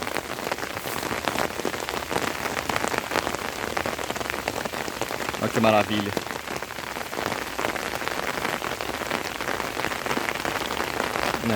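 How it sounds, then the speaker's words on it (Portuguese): Light rain falls steadily, a dense crackle of drops on a hard surface throughout, with a brief exclaiming voice in the middle. "Parece que está chovendo um pouco aqui."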